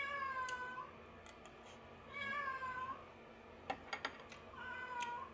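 A cat meows three times, long drawn-out cries spaced evenly apart, moderately close in a quiet setting, with a few short sharp clicks between the second and third call.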